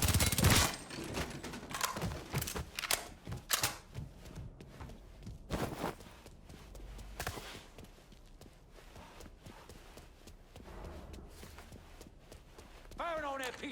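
Gunfire in Mafia 3 opens with a loud burst of rapid shots, then scattered sharp cracks and impacts mixed with running footsteps, while characters speak over the action.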